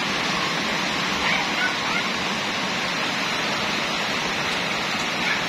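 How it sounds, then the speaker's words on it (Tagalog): Heavy afternoon rain pours down steadily as a dense, continuous hiss that stays uniform and fairly loud throughout, with no other sounds standing out. "magdala kayo ng payong kasi medyo matagal-tagal pang ulan na ito"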